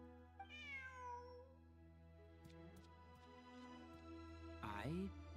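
In Genshin Impact a cat gives a clear, rising-and-falling meow at the start and another short meow near the end, with light clicks and a steady background hum between them.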